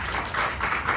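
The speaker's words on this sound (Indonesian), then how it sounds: "Beri tepuk tangan" Church congregation clapping together during a restoration prayer service, a brief steady burst of applause heard mid-clap with no pause.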